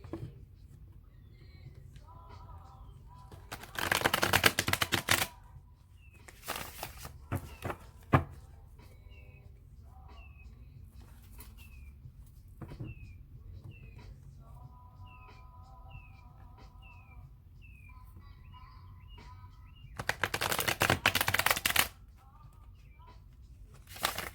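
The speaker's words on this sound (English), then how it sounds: "when it comes to shuffling these decks" Tarot card decks are shuffled in two loud riffling bursts separated by a long quiet stretch of faint clicks and chirps.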